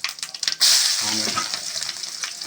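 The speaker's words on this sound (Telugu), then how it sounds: "కొంచెం ఎండుమిర్చి, కొంచెం బిర్యానీ ఐటమ్ కూడా వేసిన" Dried red chillies and biryani spices hit hot oil for a boiled egg fry curry, bursting into a loud, steady sizzle after a few soft clinks, with a brief stir partway through.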